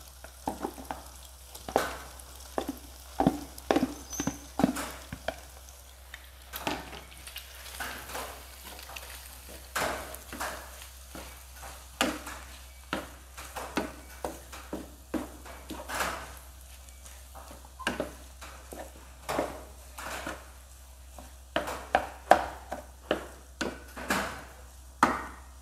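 Egg fried rice with mixed ingredients is stir-fried in a pan, with a soft sizzle under repeated sharp scraping and clacking strokes of a utensil against the pan, irregular but frequent and close up.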